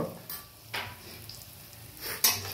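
Spicy vermicelli stirred in a pan after red chili, turmeric and garam masala go in, a few soft scraping strokes and light clinks over a quiet sizzle, close and faint, with no talk.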